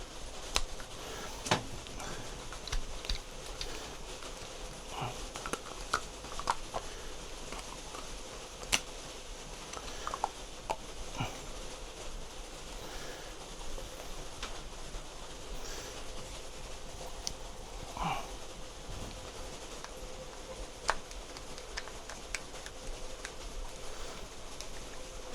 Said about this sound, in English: Hear the rain, it's coming down.